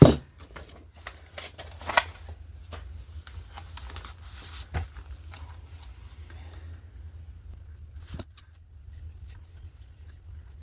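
Paper card being cut for a journal page, a series of soft, close snips and crisp clicks scattered irregularly over quiet low hum, with one sharper cut near the start and a few more later.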